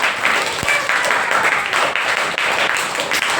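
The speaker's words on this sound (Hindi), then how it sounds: "खुशहाल के लिए एक बार जोरदार ताली बजाइए।" A classroom group gives loud, continuous applause for about three seconds, a dense, steady patter of many hands with no pause.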